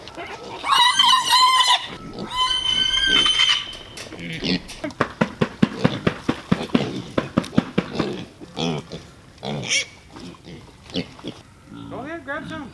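Pigs grunt and squeal in a pen, loud bursts of calls at the start and again near the end, with a voice talking through much of the middle.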